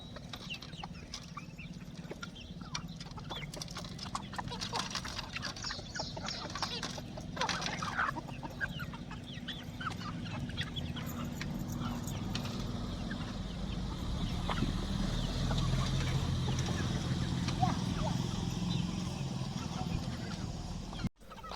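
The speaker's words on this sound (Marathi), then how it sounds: "आपले पक्षी मस्त आणि खूप आवडीनं हे पीठ खात आहेत" Chickens peck at mixed-grain flour feed laced with medicine, with soft scattered clucks and scratchy pecking over a low, steady background hum.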